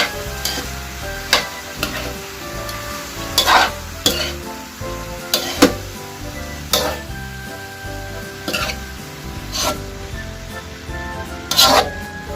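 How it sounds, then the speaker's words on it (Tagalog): A spoon stirs sautéed radish in a hot pan, with steady sizzling and frying throughout and repeated sharp scrapes and knocks against the pan every second or two. "Haluin lang."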